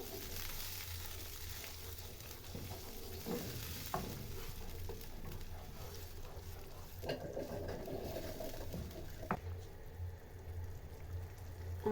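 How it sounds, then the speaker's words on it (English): Blended tomatoes frying in hot oil sizzle under a steady, faint hiss while a utensil stirs the pan with soft scrapes and occasional knocks, close up and without talk. "Give it a stir."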